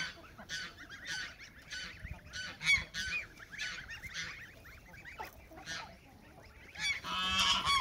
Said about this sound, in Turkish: Damızlık kazlar yavruları istiyorlar. Bu arada onun için bağırıyorlar.